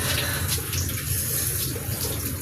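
Water running steadily while someone bathes, a continuous close splashing rush like a tap pouring into a basin, loud and unbroken throughout.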